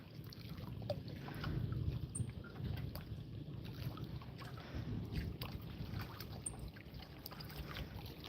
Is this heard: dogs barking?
no